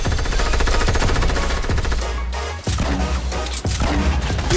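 Loud, rapid automatic gunfire from the Fortnite Battle Royale video game, a near, continuous rattling stream of shots broken by a brief pause and a few sharp cracks, with no talk.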